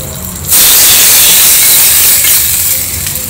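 Hot tempering oil with green chili, ginger and asafoetida poured over okra bursts into a loud, sudden hiss of sizzling that holds steady, then eases slightly toward the end.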